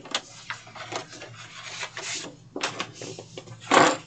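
Paper being scored on a scoring board with a bone folder, a series of short dry rubbing scrapes in bursts, with a louder rasping stroke near the end, close and alone.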